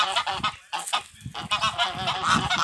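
African geese kept as guard birds honk loudly and repeatedly in rough, overlapping bursts, close by, with no talk over them.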